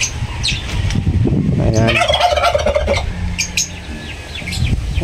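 Three hybrid turkeys gobble in a farmyard pen, bursts of rapid, warbling calls overlapping close by, with other birds chirping faintly in the background.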